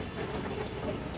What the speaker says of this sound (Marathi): आली आहे मेट्रो